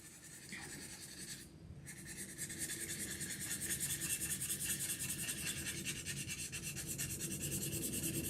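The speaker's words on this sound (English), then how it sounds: "I'm just trying to scrape that off." Rubbery eraser chunks being scraped off a drawing, a steady close scratchy rasping that carries on without a break, with a brief pause near the start.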